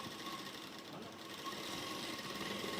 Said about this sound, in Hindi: तो इस तरह से धीरे धीरे सिलाई लगा देंगे।